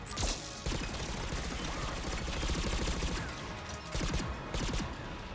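Gunfire from the video game Mass Effect 3 comes as dense, loud bursts of rapid shots and mechanical clatter, running almost continuously with brief gaps.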